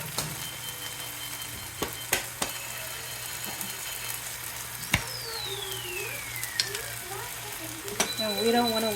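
Ingredients for arroz con gandules sizzle in a pot while a spoon stirs and scrapes, with sharp clacks against the pot over a steady frying hiss, all heard up close.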